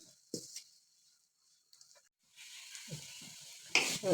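Red stem amaranth greens cooking with ground paste in a pan give soft sizzles and scraping stirs in short bursts between quiet gaps, ending in a louder stirring hiss.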